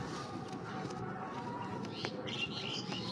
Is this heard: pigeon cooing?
yes